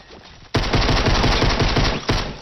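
Rapid automatic gunfire in the video game Fortnite, loud bursts of close shots starting abruptly after a short quiet lead-in and continuing steadily, with a fresh burst near the end.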